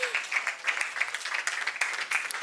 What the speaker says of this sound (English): Can you clap like you mean it?